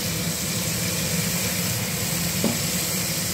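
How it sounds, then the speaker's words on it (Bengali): Cumin, coriander and green chili paste fries with potato and tomato in a pan, giving a steady, even sizzle throughout with no talking. "এবার দিয়ে দেবো জিরে ধনে কাঁচা লঙ্কা বাটাটা"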